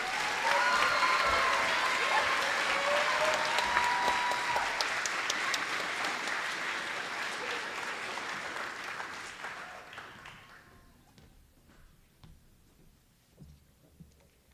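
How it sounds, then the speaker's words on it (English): An audience at a high school commencement claps loudly and steadily, then the applause fades away to scattered claps and near quiet. "Let's give her a big round of applause."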